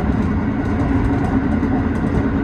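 Tobu 6050 series train moving off from the platform, a steady near rumble of motors and wheels on track with faint rhythmic clicking, heard from the front.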